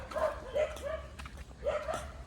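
Dogs bark and yip in short bursts at moderate distance outdoors, several barks spaced across a couple of seconds over quiet background noise.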